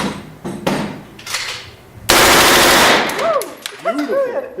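Full-auto machine gun fired in bursts at a Las Vegas shooting range, loud close rapid bursts of several rounds with a long sustained burst in the middle, followed by ringing echoes.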